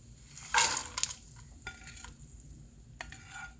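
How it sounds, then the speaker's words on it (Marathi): Fried items for a jowar-puff chivda tipped into hot oil with asafoetida, giving a few sharp sizzling bursts and scraping clatter against the pan, then quieter pauses; close, no talk. "हे जे तळून ठेवलेले सगळे आयटम आहेत आता ते आपण या तेलात घालणार आहोत"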